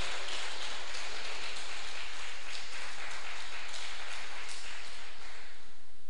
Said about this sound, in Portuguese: você pode dar uma linda salva de palmas ao Senhor